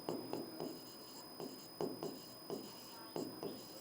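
Pen scratching across paper close up, short repeated strokes in an irregular rhythm with small pauses, quiet and alone against a faint steady hum.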